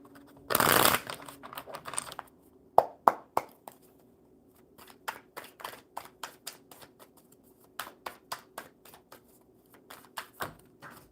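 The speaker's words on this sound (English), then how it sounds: "One more good shuffle." A brief riffle of cards being shuffled, followed by scattered soft taps and flicks of cards handled one after another.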